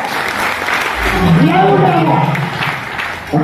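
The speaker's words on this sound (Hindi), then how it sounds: "जोरदार ताली, नॉलेज तो है।" Loud applause from a crowded direct-selling training seminar audience, broadband clapping swelling and sustained throughout, with a voice speaking over it partway through.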